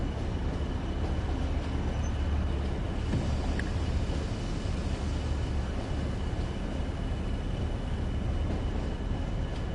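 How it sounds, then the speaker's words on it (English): Heavy freight train from the BR Heavy Freight Pack in Train Sim World 2, pushing the locomotive: a steady, dense low rumble with a wind-like hiss that holds evenly throughout. "you've got this big heavy train pushing your engine"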